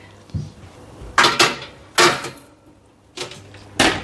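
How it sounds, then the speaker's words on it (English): A tray of spinach and feta muffins is slid into an oven, giving a run of sharp metallic clanks and bangs in quick bursts, close by with quiet gaps between them. "Okay, I'm going to go and put them in the oven."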